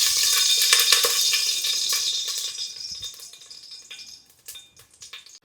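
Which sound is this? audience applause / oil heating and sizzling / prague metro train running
oil heating and sizzling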